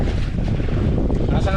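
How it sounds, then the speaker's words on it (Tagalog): Strong wind buffets a fishing boat at sea, roaring as heavy, low-pitched rumble and microphone gusts, with splashing water beneath. The noise is loud and constant throughout the short moment. "Lakas ang hangin."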